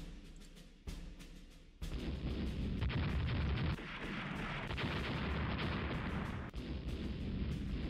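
Naval gunfire from the warship battle game Rule The Waves, an 8-inch gun among the weapons: repeated heavy booming shots and rumbling blasts layered into a dense, loud, continuous barrage with no voices.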